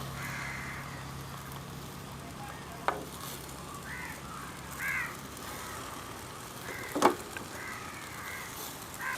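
Marinated chicken being stirred in a pan for a Kerala-style pepper chicken curry, a steady low sizzle running throughout with two sharp scraping clinks of the spoon against the pan.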